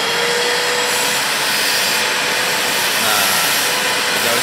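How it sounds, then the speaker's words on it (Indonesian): A vacuum cleaner roars steadily and loudly throughout, a constant airy whine with no pauses, used while cleaning a car's interior. "sekarang kita nyalakan vakumnya"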